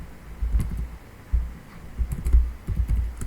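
Python code is typed on a computer keyboard in short bursts of clicking keystrokes with brief pauses between them, close and fairly loud, with no voices.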